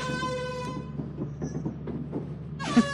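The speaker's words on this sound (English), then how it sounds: "Hold the air horn right there." A loud blaring air horn in the video game Lethal Company sounds in sustained blasts at the start and again at the end, with a quieter rumbling stretch between and a couple of thuds.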